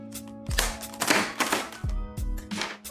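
Packaging of a Redgear Manta MT21 gaming keyboard and mouse combo being cut open up close, giving several rough scraping and crinkling bursts with dull low thumps, no talking.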